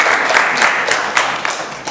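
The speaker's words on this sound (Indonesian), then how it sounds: "Beri tepuk tangan buat kelompok hijau." Audience applause after a student group presentation in a classroom, a short burst of steady clapping, fairly loud and close, with no voices over it.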